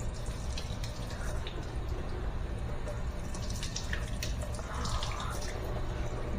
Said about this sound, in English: So now I'm going to pre-wet my hands.